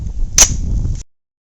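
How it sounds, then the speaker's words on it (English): One sharp pistol shot at a melon, from a 9mm or .45 ACP handgun, a loud close crack over outdoor rumble before the sound cuts off abruptly. "Shoot this melon over here."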